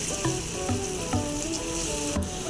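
Onion and garlic frying in a pan with cumin powder for a spicy mutton curry, a close, dense sizzle with rhythmic stirring strokes repeating about twice a second, no voices.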